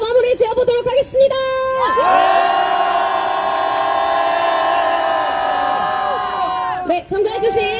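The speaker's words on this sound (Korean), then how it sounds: "힘찬 함성과 박수로 기자회견 진짜 마무리 지어보도록 하겠습니다." University students at a protest press conference let out a sustained, loud roar of cheering and clapping, a dense crowd din holding for several seconds before breaking off, with voices briefly heard at the edges.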